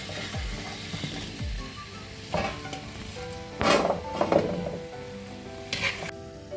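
Papaya sautéing in oil in a pan gives a steady close sizzle, broken by a few louder scraping stirs and clanks from the spoon against the pan, with no voices.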